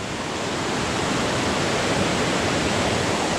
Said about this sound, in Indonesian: Menarik sekali, luas sekali sungainya di sini.